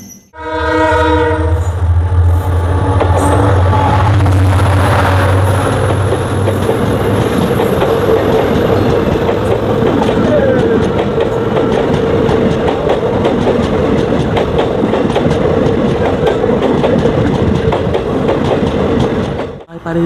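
The Agartala–Silchar Express passes close by and loud, its horn blaring in a long sustained blast at the start. A continuous rumble and rhythmic clatter of the wheels follow.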